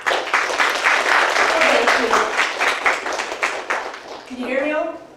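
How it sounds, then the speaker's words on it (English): Warm audience applause at a pre-pharmacy symposium, dense clapping that fades out before a voice speaks briefly near the end. "please give a warm round of applause"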